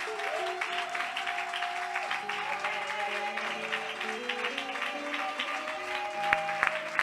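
A church congregation applauds through a Sunday service, steady clapping throughout under a sustained organ or keyboard chord, with a few louder claps near the end.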